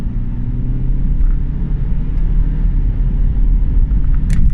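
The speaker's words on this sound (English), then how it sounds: "So we'll flick it into manual now, stick it in sport, and we see how this thing pulls." A 2015 BMW 125i in sport mode with manual shifting accelerates hard, its engine a loud, steady, deep drone heard from inside the car, with no talking.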